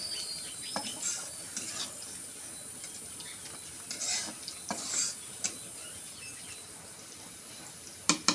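Onion and chili frying in a pan, a faint, thin sizzle with occasional soft clinks and stirring scrapes, quiet and close with no voices.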